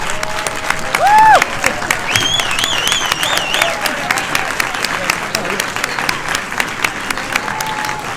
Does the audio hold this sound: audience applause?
yes